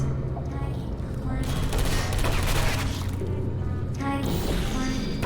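Dense, continuous turret gunfire in the video game Portal 2, a rapid rattling barrage that fills the whole stretch over game ambience, with voices briefly audible.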